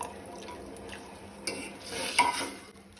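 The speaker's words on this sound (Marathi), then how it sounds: "तातूंत हांव थोडेशें उदक घालता" A little water is poured into a simmering Goan sole fish curry (lepo hooman), giving a soft splashing hiss that swells briefly near the end over quiet stirring and pot noise.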